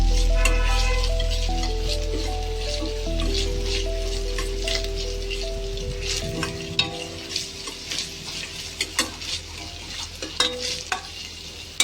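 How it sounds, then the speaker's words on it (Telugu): Ginger garlic paste frying in oil for a bottle gourd curry: a low sizzle that fades gradually, followed by sharp scraping and stirring knocks of a utensil against the pan. "కొంచెం ఆయిల్లో ఫ్రై చేసుకోవాలి"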